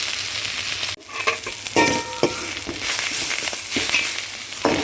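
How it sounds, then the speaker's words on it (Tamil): Greens being tossed and stir-fried in a pan for a South Indian keerai poriyal, a loud close sizzle broken by sharp clatters and scrapes of turning, no voices. "திருப்பி போட்டு நல்லா சுண்டிக்குவோம்"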